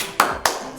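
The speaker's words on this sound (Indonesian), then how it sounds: "Tepuk semangat." Two sharp, close hand claps spaced about a quarter second apart, a quick rhythmic spirit clap from a children's online worship service, with no talking over them.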